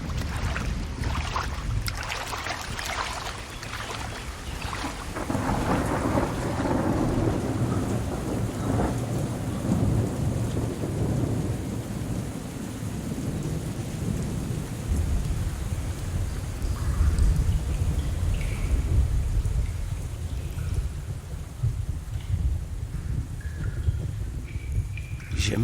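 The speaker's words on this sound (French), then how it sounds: "Il y a un orage qui semble encore 10 fois pire que l'autre." A violent thunderstorm with heavy rain pounds steadily over open water near a small rowing boat, deep thunder rolling through a continuous dense roar of downpour, loud and close throughout, with no voices.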